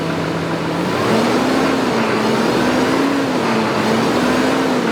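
A JCB Fastrac 4220 iCON tractor engine drones steadily and loudly nearby, its pitch rising slightly as it revs up and holds a rough, continuous note.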